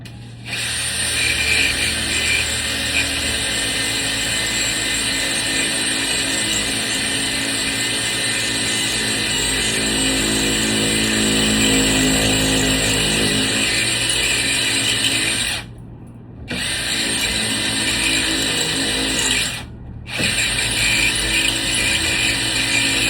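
A cordless drill with a Craftright masonry bit grinds steadily into masonry for about twenty seconds. It makes a loud, continuous rattling mechanical roar that breaks off briefly twice near the end.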